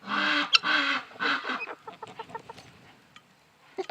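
Chickens cluck and peck in the snow on a Maine farm during a snowstorm, with short, soft clucks and light pecking taps near the microphone.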